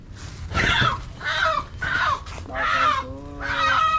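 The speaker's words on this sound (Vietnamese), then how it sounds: "anh em nghe gà kêu là biết tới đâu rồi" Chickens cluck and squawk in five quick, loud bursts, each a short run of calls close by, with faint background noise between them.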